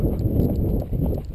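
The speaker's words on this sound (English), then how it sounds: "Now we're getting the Paddy jog." A slow-jogging horse during groundwork training near a fence and hedge line, hooves clip-clopping in a steady, unhurried rhythm, close and fairly loud over rumbling outdoor background noise.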